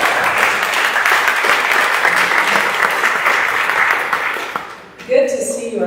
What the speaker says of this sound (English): How about just a round of applause just to get us started?